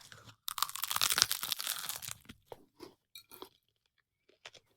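Crisp crunching bites into a flaky, layered Neapolitan pastry filled with vanilla cream, a loud burst of crackling at first, then softer, scattered chewing crunches tapering off into near silence.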